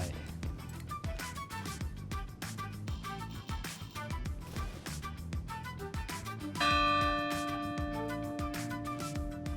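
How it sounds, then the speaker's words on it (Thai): Bell ringing in The Division 2 video game, a sustained tonal chime that sounds out clearly over the game's ongoing background music and effects with no one talking. "พอกดได้เป็นที่เรียบร้อย เราก็จะได้ยินเสียงระฆัง ดังขึ้นมา"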